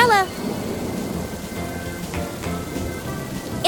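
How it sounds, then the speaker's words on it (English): Cartoon rain pattering steadily on surfaces, with a couple of muffled thunder rumbles rolling through midway and a bright chime-like flourish at the start and end. "It's raining, and Peppa spots her rainbow umbrella"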